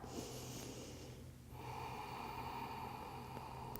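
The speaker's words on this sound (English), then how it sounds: "we're just going to hold as we breathe 3 times. So nice inhale and exhale" A slow, deep breath in and out during a guided meditation, a faint close airy inhale followed by a longer exhale in a quiet room.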